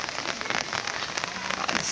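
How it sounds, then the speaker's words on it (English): Light rain starting to fall in Zhaoxing Dong village, China, a close, dense patter of drops hitting surfaces, steady and fairly loud throughout, with no talking. "just started to rain a little bit"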